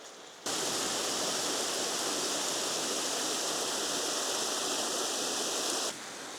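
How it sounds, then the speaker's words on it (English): Gibsons Mill waterfall at Hebden Bridge, a steady, loud, close rush of falling water that starts abruptly and holds constant throughout, with no voices. "Gibsons Mill waterfall is a lot closer than I thought it was going to be"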